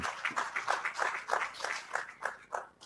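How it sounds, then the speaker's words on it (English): A seminar audience applauds in a steady, fairly faint round of clapping after a presentation at a professional accounting seminar, the claps dense and continuous for about three seconds. "Let's just give a round of applause again."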